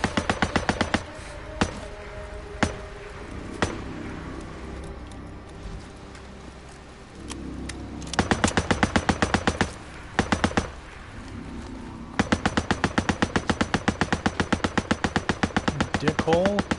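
Gunfire in Days Gone, a few scattered single shots early, then rapid automatic bursts in long rattling strings, loud and close, with someone talking over parts of it.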